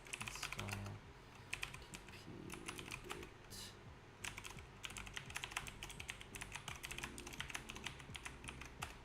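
Rapid keystrokes on a computer keyboard as terminal commands are typed during a live hacking session, an irregular, continuous clatter of close, crisp clicks with short pauses and no talking.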